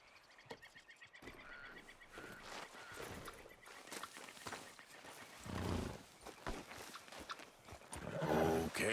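Horse hooves clip-clop in an irregular rhythm in Red Dead Redemption 2, mixed with croaking frogs and outdoor ambience near water, the hoofbeats close and the overall level quiet.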